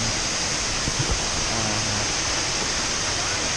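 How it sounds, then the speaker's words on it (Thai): Klong Luang waterfall on Koh Kood island, Thailand, gives a steady, loud rushing roar of falling water that fills the scene without a break, with a faint voice briefly underneath. "นี่นะครับน้ำตกที่อยู่ในเกาะกูนะครับ"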